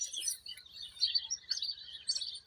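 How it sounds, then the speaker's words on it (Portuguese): A small bird chirps in quick, high, scattered tweets, faint and somewhat distant against a soft background hum, with no talking. "Aqui, olha o passarinho."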